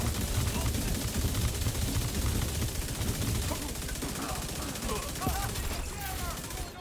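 Rapid sustained LMG fire in The Division 2 video game, a dense, continuous stream of automatic shots, loud and close, with brief electronic game sounds near the end.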